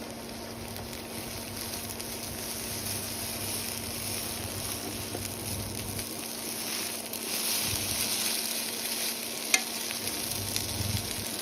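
Steady sizzling of noodles frying in an oiled pan, with a brief scrape and soft clatter as they are turned over partway through.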